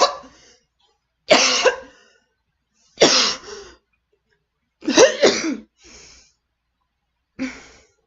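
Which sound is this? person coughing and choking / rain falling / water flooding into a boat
person coughing and choking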